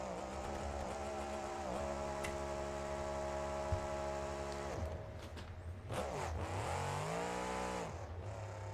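The Grave Digger monster truck engine in BeamNG, at a Monster Jam arena event, drones loudly and steadily with a low hum, then revs and falls away in pitch sweeps near the end.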